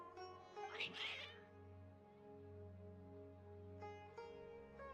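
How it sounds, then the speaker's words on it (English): Cats in the video game Genshin Impact let out agitated meows, a burst of overlapping cries near the start and another shorter yowl near the end, over a soft sustained musical drone. "Your cats seem pretty worked up."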